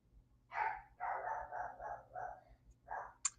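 A dog barks repeatedly at a distance, a run of muffled barks over a low steady hum, followed by a brief sharp high chirp.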